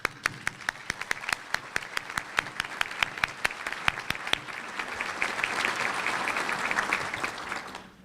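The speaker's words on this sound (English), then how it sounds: "Now you can applaud." At the 2013 Suffolk State of the City address, an audience applauds for city councilmen, starting with a few sharp, evenly spaced individual claps that swell into a fuller, steady round of applause before tapering off.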